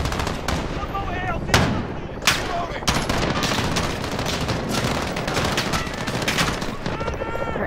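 Dense video game gunfire with several sharp, loud shotgun blasts among rapid shots and explosions, continuous and close throughout, while players talk over it.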